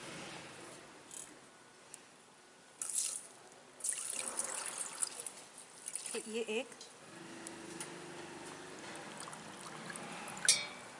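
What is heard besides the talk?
water poured into pot of decoction ingredients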